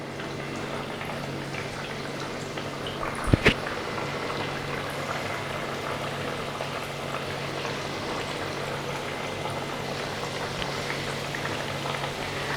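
Potato smiley and emoji snacks fry in hot oil over a low flame, a soft continuous sizzle and crackle with one brief knock partway through, faint and steady with no talk.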